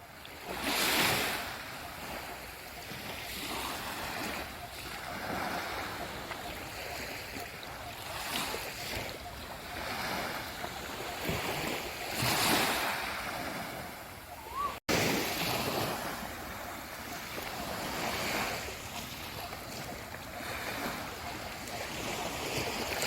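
Sea waves roll and break along a shore, a soft steady wash rising and falling in slow surges with some wind across the microphone, heard alone.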